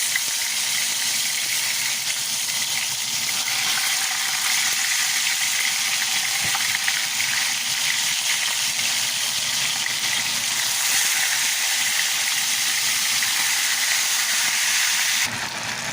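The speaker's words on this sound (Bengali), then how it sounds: "এখন গরম তেলে আমি চিকেনগুলো আস্তে আস্তে দিয়ে ফ্রাই করে নেবো" Marinated chicken pieces fry in a pan of hot oil, producing a loud, continuous close-up sizzle and hiss that holds steady for the whole stretch before cutting off abruptly at the end.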